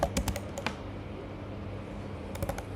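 Code being typed on a computer keyboard during an Angular programming demo: quiet, close keystroke clicks in a quick cluster at the start and another brief flurry near the end, with a soft pause between.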